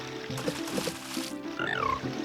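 Game frogs croak and chirp in the Zelda: Ocarina of Time frog mini-game, short bubbly calls over music, with a rising melodic run near the end.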